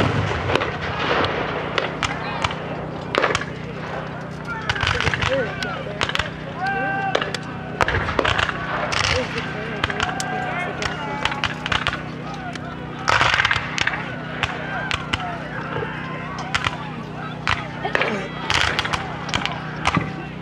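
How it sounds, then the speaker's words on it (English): Civil War reenactors at Gettysburg firing muskets by file, one after another along a line: repeated distant gunshot cracks and pops rippling through the scene amid crowd noise and voices talking throughout. "Other Confederates, as you just saw in the middle, firing by file, one after another in line"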